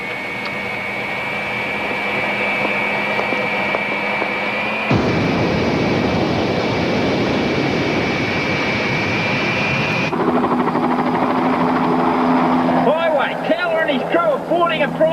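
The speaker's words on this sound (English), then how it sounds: "Boarding a private jet." A private jet's engines whine and roar steadily with a high tonal hum, loud and continuous as passengers board, shifting in character partway through, with chirping or squealing tones near the end.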